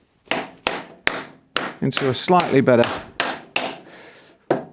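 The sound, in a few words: hammer knocking stuck sockets into position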